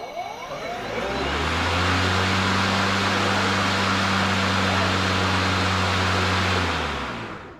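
An EGO Power+ 21-inch push battery lawn mower's electric motor whirs up, runs at a steady, loud, vacuum-like hum for several seconds, then winds down.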